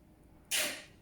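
A single sharp sneeze bursts out close by in a quiet room, a short hissing blast that fades over about half a second.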